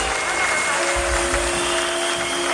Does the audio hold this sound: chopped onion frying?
no